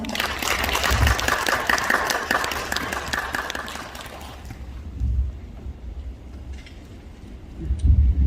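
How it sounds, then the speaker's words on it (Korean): An audience at a cultural network's founding ceremony applauds to welcome the speaker, a dense wash of clapping for about four seconds that fades out, leaving low rumbling room noise and handling bumps. "큰 박수로 맞아주세요"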